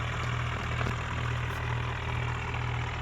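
A tractor engine idling in an Indian driving video game, a steady low droning hum that holds constant and loud, with no talk.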